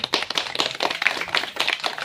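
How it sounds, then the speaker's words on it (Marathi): An audience at a school student gathering claps together in a dense burst of applause, close and fairly loud. The rattle holds steady for the whole stretch, with no talk over it. "पुन्हा एकदा टाळ्या"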